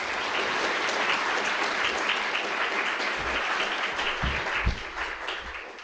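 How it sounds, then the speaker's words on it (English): An audience at a keynote lecture applauds steadily, a dense, even wash of clapping from a large crowd that holds for several seconds at moderate volume. "So please put your hands together and give a great round of applause for Jillian."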